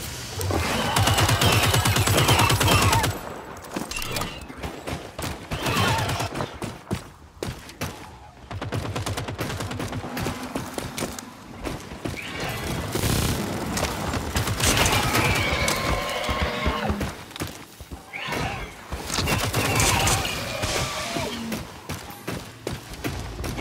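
A minigun in the video game Second Extinction fires in long, dense bursts, loud and rattling, with short gaps between volleys and other game noise mixed in.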